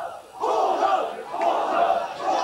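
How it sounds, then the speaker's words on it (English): A huge crowd in Tiananmen Square shouts in rising, swelling waves at a line of soldiers, distant and massed, two long surges of collective yelling. "The air was filled with shouts of "Fascists! Stop killing!""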